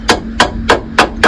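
Five sharp metal hammer blows at a steady, roughly 0.3-second rhythm, struck close by on a brake caliper retaining wedge of a Fiat Panda during a disc and pad change, with a faint steady hum underneath.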